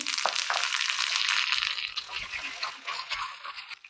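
Cashews, mustard seeds, chana dal, urad dal, dry red chillies and curry leaves frying in hot oil, a steady bright sizzle that crackles loudly then eases off toward the end.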